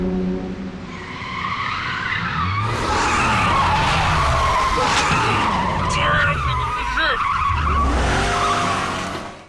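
Film stunt car sliding with its anti-lock brakes disabled, a loud sustained tire skid and squeal with engine roar that swells midway and stays close, faint voices mixed underneath.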